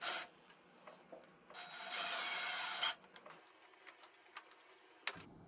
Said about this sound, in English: It's going to drive a screw in it with a drill to pull it out.